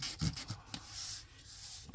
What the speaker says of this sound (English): Is that little sanding thing